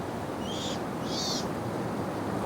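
A bristle-thighed curlew gives two clear whistled calls on remote Henderson Island, over steady rushing surf and wind.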